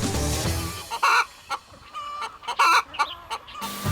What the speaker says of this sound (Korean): 드디어 해발 1000m 산속에서 닭 농장을 발견했습니다.